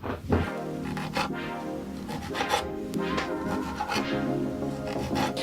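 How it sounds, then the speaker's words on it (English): Knife chopping shallots and cherry tomatoes on a board, with quick irregular taps and scraping strokes, fairly quiet and close, with no voices. "So first we're going to chop some of the shallots, some cherry tomatoes"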